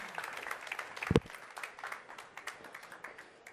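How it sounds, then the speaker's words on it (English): A small audience claps for speakers walking onto a stage, a brief, light patter of applause with one sharper clap near the start, fading out fairly quickly. "please give them a round of applause up on stage"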